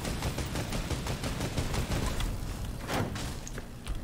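Rapid bursts of gunfire in Fortnite crackle in quick succession, dense repeated shots close up with a few heavier thuds mixed in, no voices.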